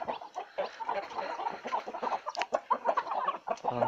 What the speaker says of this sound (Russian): Вон у нас куры такие.